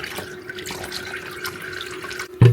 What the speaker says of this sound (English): here you can see there's still more fluid in there and it's just draining.